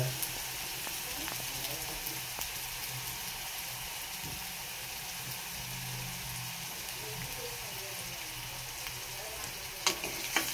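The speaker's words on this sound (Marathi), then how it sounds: "मंद आचेवर कांदा लाल करून घ्यायचा आपल्याला." Onion frying over a low flame in a pan, with a steady close hiss and crackle that continues unbroken throughout, plus a few faint clinks near the end.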